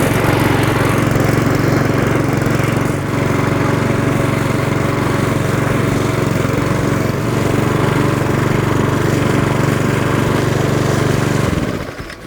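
A self-propelled MM48SPH petrol lawn mower runs steadily at close range, its engine droning evenly as it mows grass, with a constant buzzing hum that cuts off at the end.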